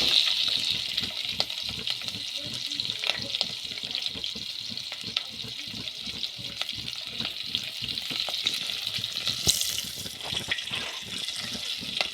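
Onion frying in a little cooking oil in a sufuria, a steady close sizzle with light crackle and occasional stirring clinks throughout, no talking.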